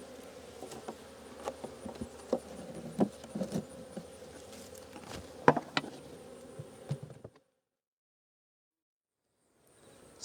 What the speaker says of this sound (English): there's just a few bees there